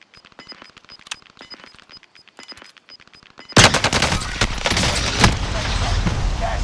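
A Bren machine gun fires in Call of Duty Warzone: sparse clicks and faint taps give way to a sudden loud, sustained burst of rapid close automatic fire with sharp repeated cracks.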